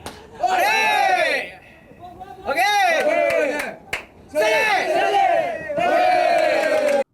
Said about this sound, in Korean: 호쾌한 스윙이 경기장의 함성을 부릅니다